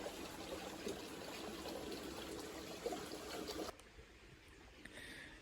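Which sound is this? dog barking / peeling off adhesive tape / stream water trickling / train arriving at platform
stream water trickling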